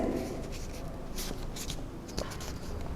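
A sheet of paper folded by hand during a primary-school geometry lesson on symmetry, making soft, close rustling and creasing swishes in a few short bursts, with no talking.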